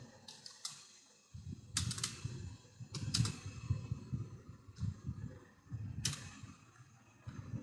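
Someone types on a computer keyboard in a few short bursts of close clicking keystrokes, with a soft low murmur running underneath and no clear speech.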